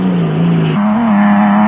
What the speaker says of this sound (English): Kutsi and Leek were pushing the Castrol Toyota Hilux as hard as possible